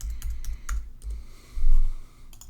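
Computer keyboard and mouse clicks during digital drawing work in Clip Studio Paint, a string of light, close taps and clicks in quick irregular bursts with a softer low rumble midway.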